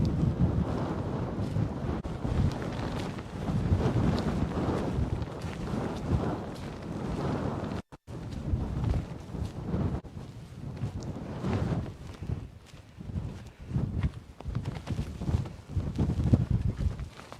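Strong wind on the hilltop of Wild Boar Fell roars and buffets the microphone without letup, loud gusts rising and falling for the whole stretch.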